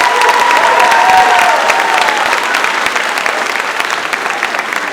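A crowd applauds at an eighth-grade school promotion ceremony, steady and loud throughout with dense overlapping claps and a faint cheer or whistle near the start, no one speaking over it.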